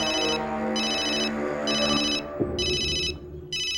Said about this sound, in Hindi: ये लो, फोन भी आ गया।